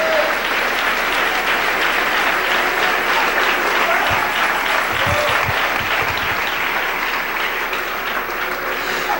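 A church congregation applauds loudly and continuously, a dense, steady wall of clapping with some crowd noise that lasts throughout.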